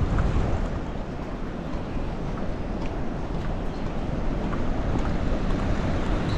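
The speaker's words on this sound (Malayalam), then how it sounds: "വെള്ളച്ചാട്ടത്തിന് സൗണ്ട് കേൾക്കണ്ട," A waterfall close by at a rainy campsite with huts gives a steady, loud broadband roar of rushing water that holds evenly throughout, with no voices over it.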